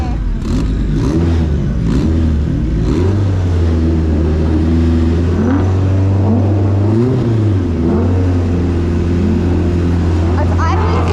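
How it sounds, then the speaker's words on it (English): A K24 engine in a Nissan 180SX runs loud and close, idling too high from a sticking throttle body, its pitch rising and holding at a high, steady drone with a few revs, while a person talks over it. "It's idling too high."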